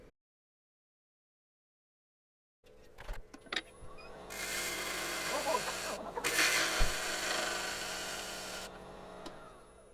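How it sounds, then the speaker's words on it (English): An angle grinder cleans up the edge of a wet wood piece, starting after a brief silence with scattered contact noises, then settling into a steady, fairly quiet whining grind with short dips and surges. "I'm going to take this back over to the grinder right now and clean up that edge"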